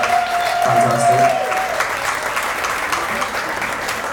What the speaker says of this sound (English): a big round of applause for opening the door for three who were playing earlier on